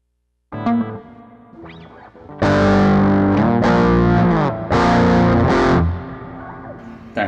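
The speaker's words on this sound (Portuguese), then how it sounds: "Vamos escutar o som do blues aqui, ó." Electric guitar through a Digitech RP7 processor on its blues amp preset, a few overdriven single notes, then loud, sustained crunchy chords that ring out and fade, no talking.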